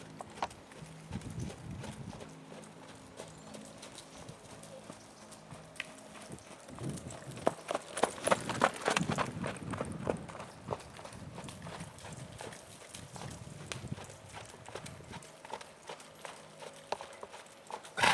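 Horse hooves clip-clop steadily across an arena at a trot and canter, a continuous rhythmic beat at moderate distance with some swelling in the middle.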